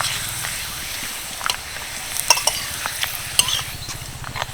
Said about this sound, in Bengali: সেকেন্ডের মধ্যেই পাঁপড়গুলো ভাজা হয়ে যাচ্ছে